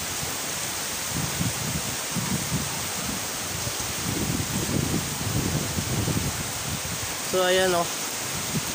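Strong wind and rain from Typhoon Paeng lashing through trees in Southern Leyte, a steady broadband roar throughout, with someone talking briefly near the end.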